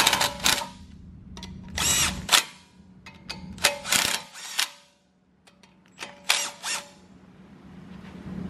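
A power tool drives 8mm bolts on a Honda Civic Si brake rotor with a Mugen brake setup. It gives repeated short, whirring bursts with squeaky pauses between them, close and loud, and there is no talk.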